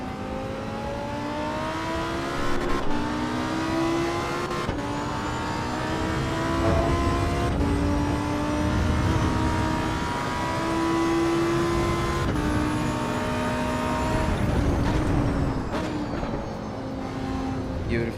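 A car engine accelerates on a track, steady and close, its rising tone repeatedly climbing through gears with short dips at each shift, running continuously under light background noise.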